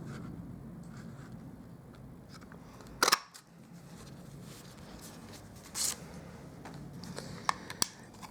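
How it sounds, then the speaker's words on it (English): An Everyday Label Punch cuts a label from scrap Whisper White cardstock, with two distinct crisp clunks a few seconds apart over a quiet background and faint paper handling. "I'm going to grab my Everyday Label Punch, and I am going to cut out a label using some scrap Whisper White"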